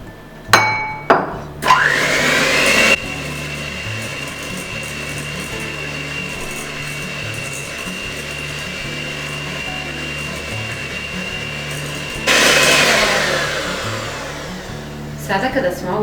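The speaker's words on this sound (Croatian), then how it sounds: "i to ćemo lagano da izmiksamo" An electric hand mixer whirs steadily through lamington batter after sugar and milk are added, with clunks at the start, a louder burst as it speeds up, and a high motor whine throughout.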